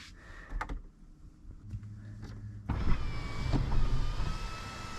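A Mercedes-Benz EQS 580 sunroof motor whirs open inside the quiet cabin, a soft steady electric hum that starts faintly and then swells louder and continues to the end, with a few light clicks.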